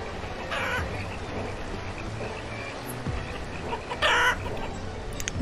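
Chickens in the video game Banished cluck intermittently over a steady game ambience, with a louder burst of clucking near the end; no speech.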